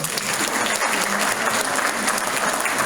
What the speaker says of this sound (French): donc on l'applaudit pour ça